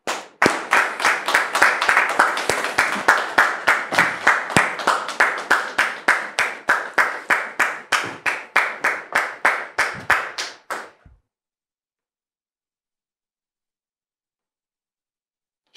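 A studio audience claps in fast unison rhythm, about three to four sharp claps a second, to welcome a guest on a talk show. The clapping stops abruptly after about eleven seconds and leaves silence.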